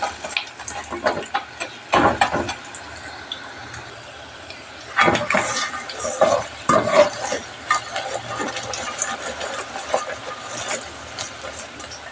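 Oil sizzles and crackles steadily as snake gourd fritters (snake gourd 65) fry, with louder bursts of spattering and occasional clinks of a utensil stirring.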